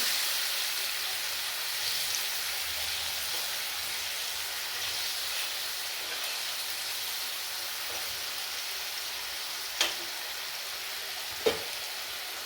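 Spices frying in a pan for a Bengali satin fish curry with madhu maan leaves hiss in a steady, close sizzle after water is added, with two sharp spits or clinks near the end.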